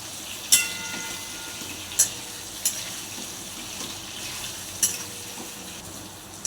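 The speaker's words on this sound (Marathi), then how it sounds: "भरलेली वांगी घालू। तेलामध्ये वांगी परतून घेऊ।" Stuffed eggplants fry in a hot wok of oil with whole spices, giving a steady close sizzle with a few sharp clinks and spatters scattered through it.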